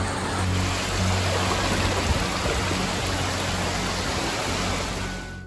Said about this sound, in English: This is our street now. It looks like a river.